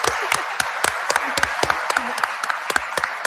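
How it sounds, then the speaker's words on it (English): An audience at a UAP disclosure forum claps in a loose, fairly close burst, with individual sharp claps standing out from a steady patter and a voice faintly underneath. "Let's have a round of applause for Beatrice."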